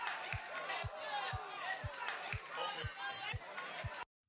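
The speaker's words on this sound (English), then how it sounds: "I added two tracks of kind of subtle crowd noise" Subtle crowd noise layered in a pop-country drum mix plays alone: murmuring chatter and voices from a gathered crowd, with a steady low kick-like thump pulsing evenly beneath, until it cuts off abruptly into silence.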